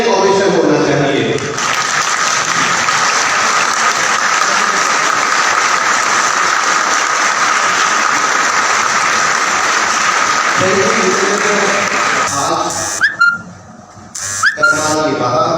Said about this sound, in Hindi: एक बार खड़े होकर तालियों के साथ स्टैंडिंग ओवेशन होना चाहिए